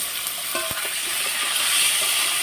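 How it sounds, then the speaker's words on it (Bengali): Potatoes frying in a pan for a rohu fish curry, a steady broadband sizzle with a few faint clicks and scrapes near the start, continuous and close with no talking. "তো এখন আলুগুলাকে রুই মাছের জন্য লাল লাল করে ভেজে নেওয়া হবে"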